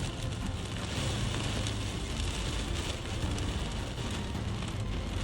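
Torrential rain pounds a moving car during a storm near Lamphun, Thailand, a constant, loud and even roar of drops on the body and glass with no break, no voices, and a low road rumble beneath.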